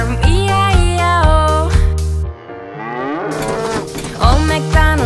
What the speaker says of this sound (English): And on this farm he had a cow, E-I-E-I-O. With a moo moo here and moo moo there.